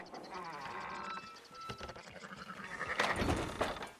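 Sheep bleating in the Red Dead Redemption 2 video game, several wavering, nasal bleats overlapping one after another at moderate volume, with a louder cluster near the end.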